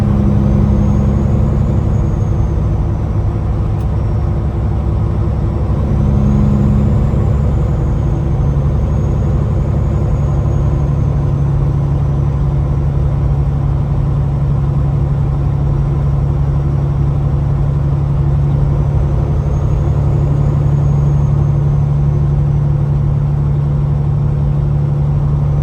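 An Alaska trucking rig's engine runs in a steady, loud drone with a low, constant hum throughout, as if heard from inside the cab while getting under way, with no voices.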